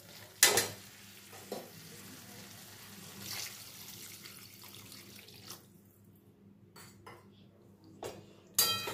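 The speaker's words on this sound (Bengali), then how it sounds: "এবার আমি এর মধ্যে গ্রেভির জন্য খানিকটা" Water is added to a fried-down spice paste in a pan and stirred into a gravy, with a sharp splash and sizzle followed by scraping stirs and softer simmering close by.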